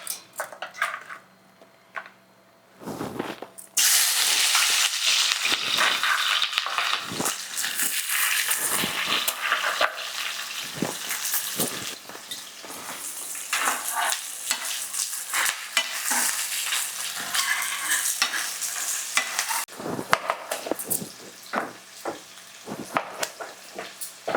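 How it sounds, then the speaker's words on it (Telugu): Sliced onions drop into hot oil and fry, a sudden loud burst of sizzling that settles into a steady crackle with spatula scrapes and clinks against the pan, close and continuous with no talking. "మనకి కాగిపోయింది అనమాట ఉల్లిపాయలు వేసేసుకున్నాం"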